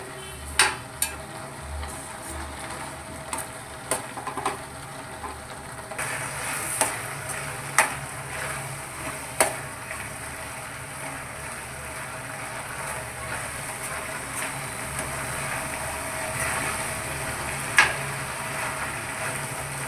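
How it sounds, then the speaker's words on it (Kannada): Carrot halwa with a cup of sugar being stirred in a pan, a steady soft sizzle under repeated sharp scrapes and taps of the spoon against the metal at an irregular rhythm, close and moderately loud. "1 ಕಪ್ ಸಕ್ಕರೆ ಚೆನ್ನಾಗೆ ಮಿಕ್ಸ್ ಮಾಡಿ. ಈ ಥರ ಚೆನ್ನಾಗೆ ಮಿಕ್ಸ್ ಮಾಡ್ಕೊಬೇಕು."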